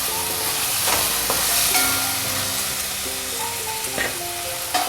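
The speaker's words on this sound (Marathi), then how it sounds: "तो पण असा 1 मिनिटभर आपण टोमॅटो परतून घेऊयात कांद्याबरोबर" Chopped tomato and onion sizzling in a pan while being sautéed for paneer bhurji, a steady close frying hiss with light stirring clinks and no talk.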